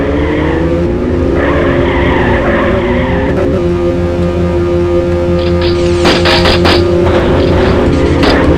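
In the Mini Car Racing video game, tires screech in a long skid as a car spins out over a constant loud engine whine, with sharper squeal bursts near the end.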